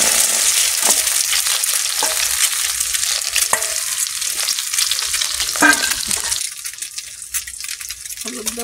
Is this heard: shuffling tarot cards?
no